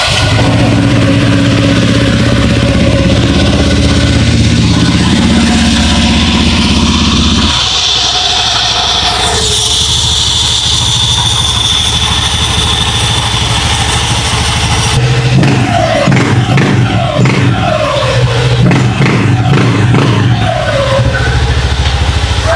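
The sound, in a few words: Honda Click 125 scooter engine started and revved after CVT cleaning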